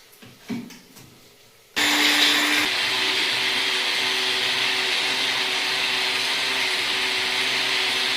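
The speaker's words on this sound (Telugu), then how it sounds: "ఐటమ్స్ అన్ని మిక్సీ చేస్తున్నాం." Mixer grinder whirring loudly and steadily as it grinds tomato, coriander, chillies and mint into a paste for cooker biryani, starting abruptly after a few faint kitchen knocks and running on without pause.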